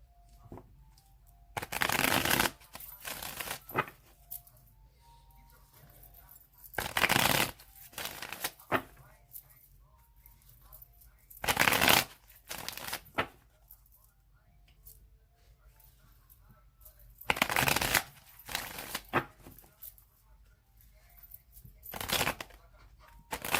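A deck of tarot cards being shuffled by hand, several distinct riffling bursts of a second or two separated by quiet pauses, close and crisp with no talking.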